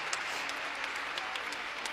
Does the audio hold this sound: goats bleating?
no